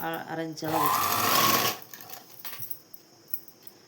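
A sewing machine stitches a blouse seam in a short rapid whirring run, then stops, followed by quieter handling clicks while someone talks.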